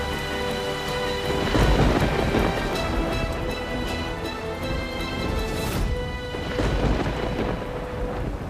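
Heavy rain pours steadily with loud thunder rolling and cracking through it, a dense continuous downpour with no speech.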